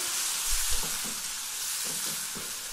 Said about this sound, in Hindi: जो हमारा ये पेस्ट रेडी था वो हम डाल देंगे सारा का सारा और इसको अच्छे से मिक्स करेंगे